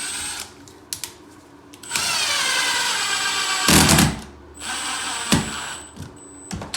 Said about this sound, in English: make sure that the screws are tightened with the level in place